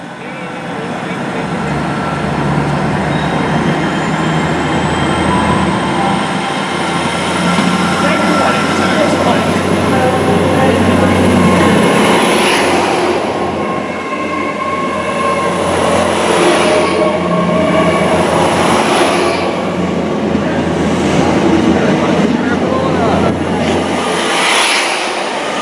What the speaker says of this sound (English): departing now is the 1212 Great Western Railway service to London Paddington